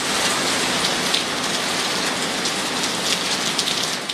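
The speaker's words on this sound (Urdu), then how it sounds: "ملک کے بیشتر علاقے بارش میں نہا گئے" Heavy rain pours steadily, a dense, close hiss of drops hitting surfaces that stays loud and even throughout, with no voices.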